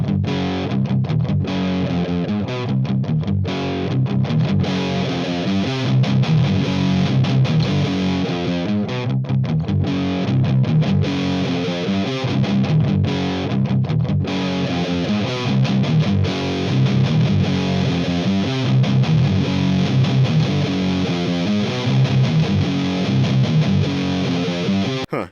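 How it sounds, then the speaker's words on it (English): An electric guitar played through a Boss high-gain distortion pedal with its gain boost on gives a continuous heavily saturated, buzzing tone as chords and riffs ring out loud and close for the whole stretch, with no talking. "Just the distortion knob already gives you too much distortion."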